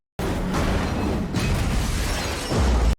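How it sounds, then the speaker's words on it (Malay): Film scene of a car ramming head-on into another vehicle in front of a police station: a loud, continuous crunching impact with broadband noise and debris lasting a few seconds, ending in a heavier low thud, no voices. "sebuah kereta merempuh secara berdepan kenderaan De Jong dan Seok-soo tepat di hadapan balai polis"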